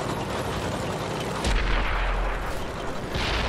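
A T32 American heavy tank's cannon fires in World of Tanks on Xbox 360, a single sharp heavy boom cutting through steady battle noise, then a fainter second report near the end.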